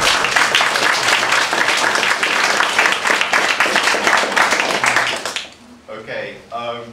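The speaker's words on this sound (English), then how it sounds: "let's give him a big round of applause." An audience at a Proto-Indo-European lecture at the Polyglot Gathering in Berlin, 2014, breaks into dense, sustained applause for about five seconds. The clapping then cuts off and a single voice begins speaking.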